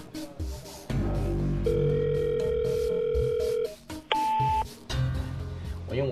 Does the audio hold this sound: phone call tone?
yes